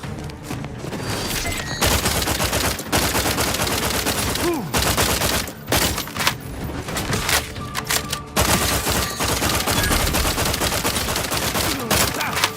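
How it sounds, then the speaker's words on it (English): Heat-seeking bullets fired from a gun in The Outer Worlds 2, during a fight around a Mantisaur nest in a minefield: rapid, loud bursts of shots with brief pauses, mixed with game effects and little talk. "This gun's actually ridiculous because it's heat-seeking bullets, so I'm actually hitting them."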